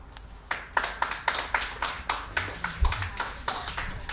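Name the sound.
audience applause after poetry reading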